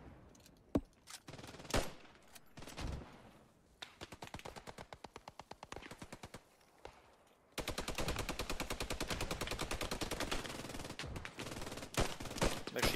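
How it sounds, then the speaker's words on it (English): Machine gun in Post Scriptum, a WWII US Airborne shooter, rattling off rapid bursts, with scattered shots early and a long, loud, steady burst through the second half. "Machine gun in the right building"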